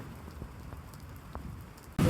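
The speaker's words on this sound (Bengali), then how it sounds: "বৃষ্টি শুরু হয়ে গেছে" Rain falls on a rooftop garden, a soft steady patter with scattered drop taps, quiet and close, before a sudden loud burst at the end.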